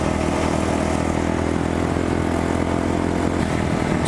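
Kawasaki Ninja 400 motorcycle out on a ride, its engine droning steadily and loudly throughout, with wind noise mixed in and no speech.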